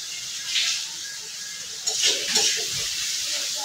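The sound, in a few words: stirring spice paste in pan with a little water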